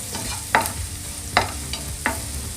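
Spices frying in a pan for palak paneer: a steady soft sizzle broken by about four sharp scraping stirs of a spatula, close and fairly quiet, with no voices.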